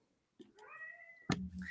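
A cat meows close by, one drawn-out rising and falling call, then a second sharper, louder meow right after, with no talk over it.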